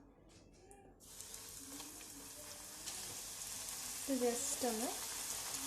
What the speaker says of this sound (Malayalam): അപ്പൊ നമുക്ക് പൊരിക്കാൻ തുടങ്ങാം